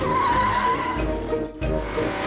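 A cartoon car from a Peppa Pig episode revs and drives off with squealing, skidding tires, loud and close, the engine noise running steadily with a brief dip midway.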